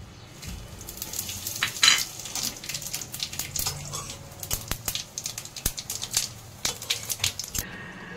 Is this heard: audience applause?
no